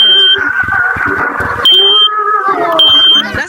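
A smoke detector beeps in long high-pitched tones, three separate bursts at intervals, over a background of people talking loudly throughout.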